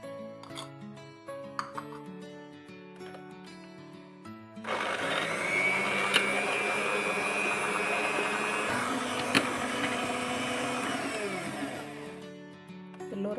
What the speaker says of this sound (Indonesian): Yang pertama akan saya mixer gula dan telur sampai halus.